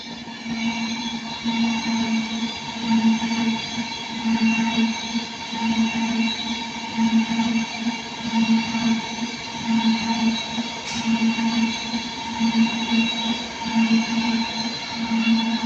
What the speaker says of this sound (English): this is 39157 Chadwara for Avanti West Coast, working from London Euston to Manchester Piccadilly